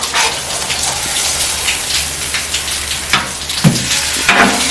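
A ham steak sizzles on a Blackstone flat-top griddle with a steady, crackling hiss. The sound runs evenly throughout, with a few louder pops near the end and no talking.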